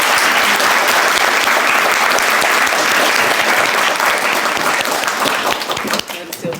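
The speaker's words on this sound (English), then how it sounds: "Can we have a round of applause for all of" A large audience at a women's launch event in Manchester breaks into a loud, sustained round of applause that fills the room at a steady density, then thins slightly toward the end.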